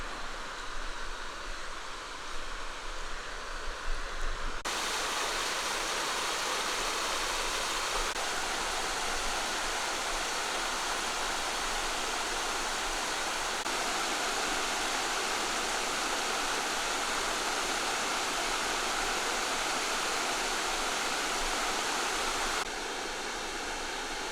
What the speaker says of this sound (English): This is the smaller falls we're looking at